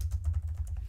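Rapid keystrokes on a computer keyboard, picked up loudly by a close microphone, sound as a quick burst of clicks over a low hum.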